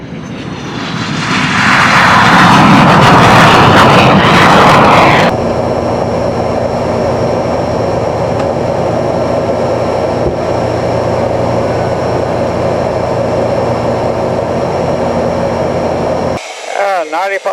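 An L-29 jet trainer's engine roars loudly from inside the cockpit during a formation training flight with gear up and flaps retracting. An early surge settles into a steady, close, droning whine with a faint sustained tone.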